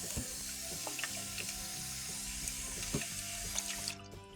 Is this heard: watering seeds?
yes